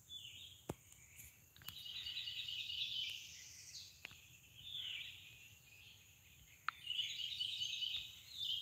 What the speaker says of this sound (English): I hope y'all can hear them birds.